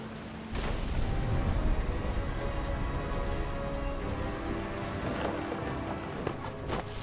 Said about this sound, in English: The thunder sounded much too close and full of angry power.